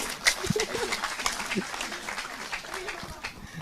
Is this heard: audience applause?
yes